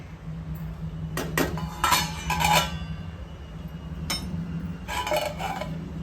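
A lid is set back onto a cooking pot of Malvani-style spicy chicken liver masala steaming on the stove, giving a few close metallic clinks and clatters spread over several seconds with no talking.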